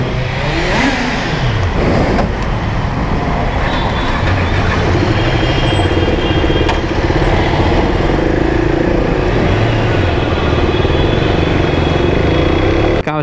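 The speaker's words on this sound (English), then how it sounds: "Kawasaki Z900 first ride, just 0 kilometers on this motorcycle." A brand-new Kawasaki Z900 motorcycle with zero kilometres on it runs continuously and loudly up close, its engine note rising and falling with revs under steady wind rush.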